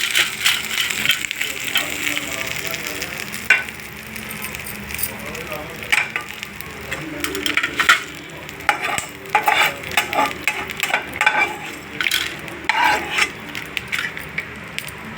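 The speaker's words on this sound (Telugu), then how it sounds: "వేపిన పప్పే కదండి, బాగా వేగిపోయినా పర్వాలేదు." Lentils fry in oil in a pan, sizzling steadily while a spoon stirs and scrapes in frequent clattering strokes, close and moderately loud.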